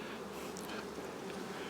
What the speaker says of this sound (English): Yeah, I'm happy with these bees.